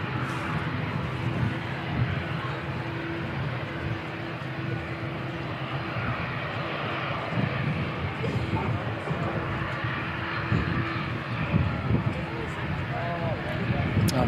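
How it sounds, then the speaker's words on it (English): An ATR turboprop, flight NZ5717 bound for Invercargill, taxis at Christchurch Airport, giving a steady low engine rumble and drone that holds throughout, with a person talking over it. "NZ5717, ATR heading to Invercargill,"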